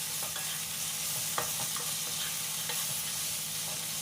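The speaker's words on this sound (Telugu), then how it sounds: "ఇప్పుడు ఉడికించుకొని ఉంచుకున్న బంగాళదుంప ముక్కలను అయితే వేసుకున్నాను." Boiled potato pieces fry with cumin and green chilli, giving a close, continuous sizzle broken by clacks and scrapes of stirring, with no voices.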